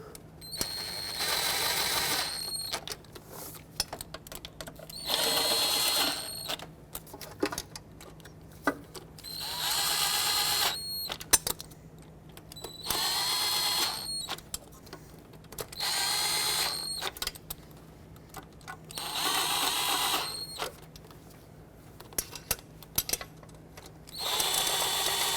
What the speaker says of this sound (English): I just want to bottom them out and hold the intake nice and tight